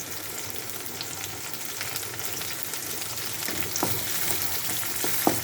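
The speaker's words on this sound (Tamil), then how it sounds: "கொஞ்சம் எண்ணெயில் வதங்கட்டும்." Chopped tomatoes sauté in hot oil for a chicken gravy, giving a steady crackling sizzle with occasional spatula scrapes and small pops toward the end, close and moderately loud, no voices.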